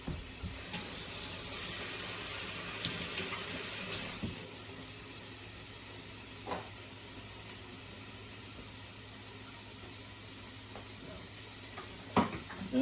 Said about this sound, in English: Wash my hands up quick.